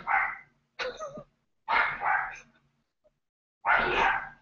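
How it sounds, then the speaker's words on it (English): A pet dog barks indoors in several sharp, separate bursts with short pauses between them, moderately close and clear, and no talking over it. "You can hear my dog."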